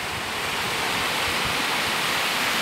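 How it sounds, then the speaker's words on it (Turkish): Village stream flowing a short way off, a steady broadband rush of water without pauses, moderately loud and continuous with no voices. "Yani burası derenin sesiyle uyumak tabii bir başka olur."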